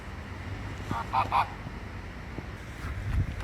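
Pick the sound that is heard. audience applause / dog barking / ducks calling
ducks calling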